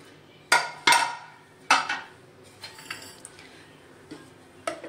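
Sharp metallic clanks and knocks as a pressure cooker holding cooked mutton paya soup is opened, a few loud close hits early, then lighter scattered taps and clinks.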